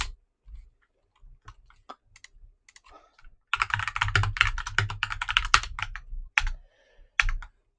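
Rapid clicking keystrokes on a computer keyboard as a search is typed out, a few scattered taps building into a dense burst of close, crisp typing, then trailing off to single clicks.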